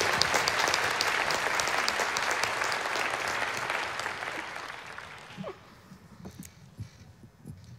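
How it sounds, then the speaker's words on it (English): A crowd at a high school commencement applauds loudly and steadily for about five seconds, then the clapping thins out and fades to scattered claps. "can we please give her a round of applause for being Dr. O'Brien"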